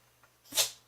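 A single sharp sneeze, short and fairly close, after a brief faint inhale in an otherwise quiet room during a crochet session.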